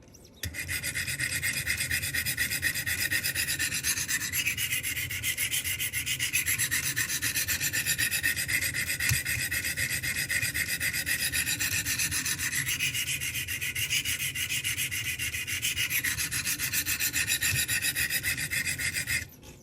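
A Glidstrike knife blade is sharpened on a Wicked Edge sharpening system, with steady, close rasping strokes of the stones across the steel continuing rhythmically throughout.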